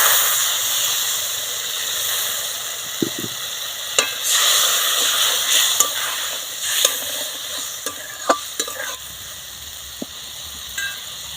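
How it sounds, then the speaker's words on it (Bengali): Fish curry gravy with cumin powder and water bubbling in a pan, a steady broadband sizzle and hiss with occasional clicks of a stirring spoon against the vessel, close and continuous. "গ্রেভিটা ফুটে গেছে"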